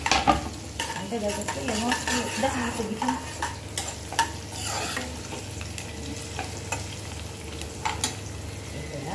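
Rava upma cooking in a pan at breakfast, stirred with repeated scraping and clinking of a utensil against the metal over a soft sizzle, with a brief spoken remark.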